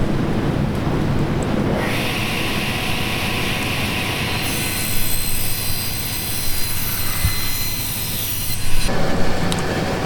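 Table saw ripping small wooden finger braces, a loud steady whine that shifts pitch as the wood feeds through the blade, then drops back to the idling hum near the end; no talk.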